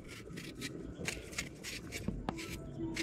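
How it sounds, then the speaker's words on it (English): A peeler scrapes steadily along a cucumber in quick repeated strokes, close by and fairly quiet, with a few sharper clicks partway through. "Here's some cucumber peeling."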